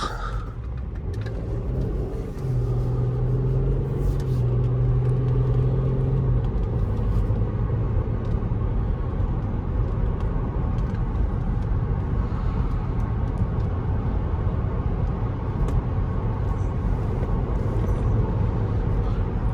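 Steady cabin rumble of a 2003 Audi A6 3.0 Quattro being driven after sitting unused for years, a loud, continuous low engine drone and road noise with a brief rising tone early on and no talking.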